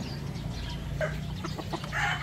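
A chicken clucks softly a few times during a bath with mite shampoo, amid a steady low background rumble.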